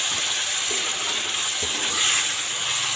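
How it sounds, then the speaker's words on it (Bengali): A paste of cumin, green chilli and ginger fries in a pan for a boal fish dish, giving a steady, close hissing sizzle throughout. "মশলাটা দিয়ে এখন ভালো করে কষিয়ে নেব।"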